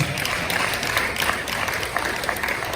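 Steady, dense applause from a large church congregation fills the whole stretch, even and sustained without pauses.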